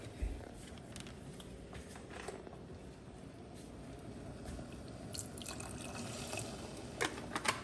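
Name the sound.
orange juice being poured into a pan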